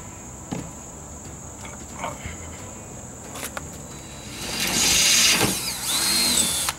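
A power drill whirs loudly for a couple of seconds near the end, after scattered taps and clicks over a faint insect-like background hum.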